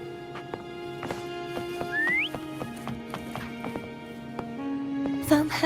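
In the Wuthering Waves game, a short rising whistle calls a horse, which answers with steady clip-clop hoofbeats as it trots over against a sustained musical background.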